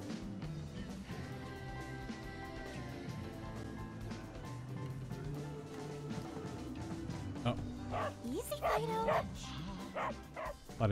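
A guard dog in Final Fantasy VII Remake barks and yips in short bursts near the end, breaking out over music and game sounds while a voice talks.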